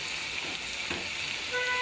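Onions fry in hot oil with garlic and ginger paste added, giving a steady, moderately loud sizzle with a faint scrape of stirring, alone and without talk.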